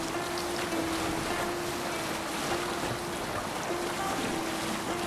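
A Viking longship sails across open water in Assassin's Creed Valhalla, a steady wash of waves and wind against the hull with a faint low hum, continuous and without talk.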